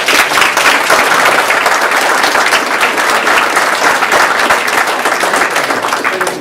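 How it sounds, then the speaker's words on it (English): Loud, dense applause from an audience at a community engagement meeting on school resource officers fills the whole stretch, sustained and even with no talk over it. "Can we give Tony a round of applause?"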